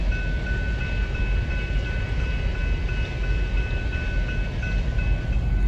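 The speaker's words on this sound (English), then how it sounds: "Double train action." A passenger or cargo train rumbles past continuously with loud low roar and steady wheel clatter, a faint metallic whine riding on top.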